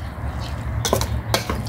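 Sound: stirring pork marinade in a bowl

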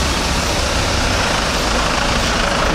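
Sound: Darjeeling Himalayan Railway train arriving at station

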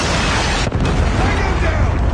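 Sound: missile explosion in the video game Call of Duty

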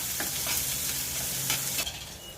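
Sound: onion sautéing in a pan

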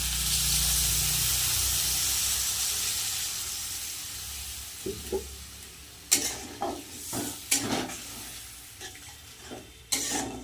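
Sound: water added to sizzling curry masala

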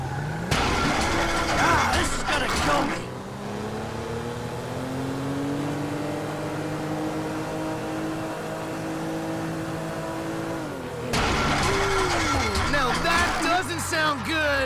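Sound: car engine revving in video game

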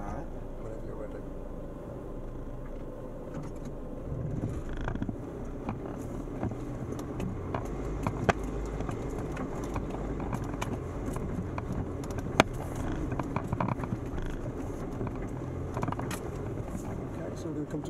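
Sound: Land Rover Defender climbing a hill in second gear

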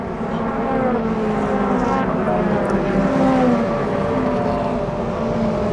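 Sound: racing cars passing at Brands Hatch circuit

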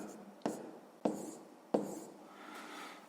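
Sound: writing down an answer by hand

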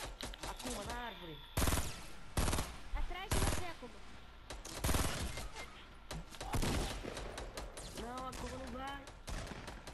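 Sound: gunfire in the video game Fortnite

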